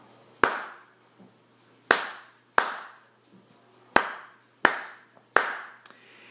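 A single pair of hands claps the same rhythm again: six crisp, nearby claps spaced unevenly around rests, each ringing briefly in a quiet room, with a faint extra tap near the end.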